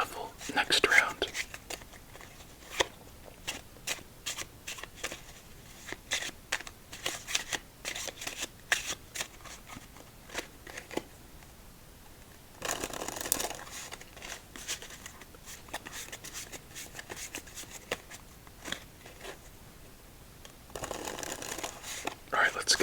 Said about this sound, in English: We'll do another casino shuffle next round.